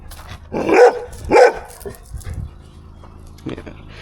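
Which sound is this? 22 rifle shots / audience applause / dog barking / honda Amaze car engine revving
dog barking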